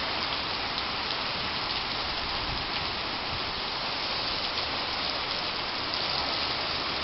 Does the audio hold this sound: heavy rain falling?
yes